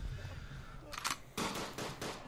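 MG08 machine gun in the trench warfare game Verdun, firing a few short bursts of rapid shots at moderate distance amid faint background game sound, with no speech.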